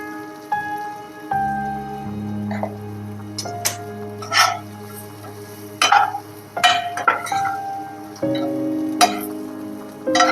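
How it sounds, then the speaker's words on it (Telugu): Coconut powder frying in a hot pan for a jowar roti and taro root fry, with soft sizzling, scraping and stirring clatter in irregular bursts under a steady low hum, close and fairly loud. "కొబ్బరి పొడి గోల్డెన్ కలర్ వచ్చే వరకు వేపుకొని చూడండి"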